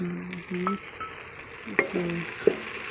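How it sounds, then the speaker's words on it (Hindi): Tomatoes and green chilies stir and sizzle in a hot frying pan, with a steady fry under light scraping and a few sharp clinks of a spoon against the pan. No one speaks. "और अब मैं ये टमाटर और हरी मिर्च इसमें डाल रही हूँ"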